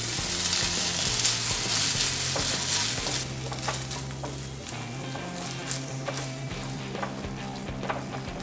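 Boiled sweet corn sizzles in butter in a kadhai, a bright, continuous frying hiss with occasional stirring clicks, heard under steady background music.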